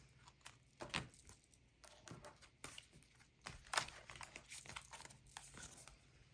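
A deck of cards is shuffled by hand nearby, giving soft irregular riffling, flicking and rustling bursts that are quiet and close, with no talking.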